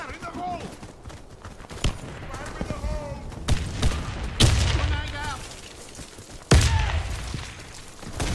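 Counter-Strike match with a thrown grenade bursting in a sharp boom, followed by another heavy blast a couple of seconds later, amid scattered gunfire and in-game voice callouts.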